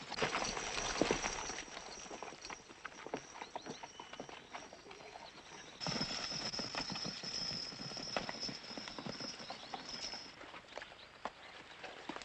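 Horses' hooves clip-clop steadily on a hard surface in a 1943 Western, a continuous rhythmic clatter with a faint whistle-like tone running over much of it and no talk.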